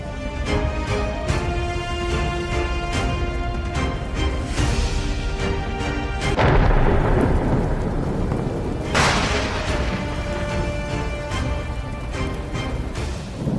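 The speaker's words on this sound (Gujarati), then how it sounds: "ફરી ધોધમાર વરસાદ પડતા નીચાણવાળા વિસ્તારો જળમગ્ન થઈ ગયા" Heavy monsoon rain in Gujarat, India, roars steadily with a dense wash of noise, swelling louder midway, alongside a persistent tonal hum.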